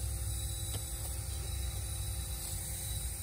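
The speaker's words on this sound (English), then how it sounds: "So right now the compressor's pumping, it's pushing in air, and I can hear it escaping." A Bentley Continental Flying Spur air suspension compressor pumps air into a leaking strut, a steady, even electric hum and drone that holds without change throughout, with no voices.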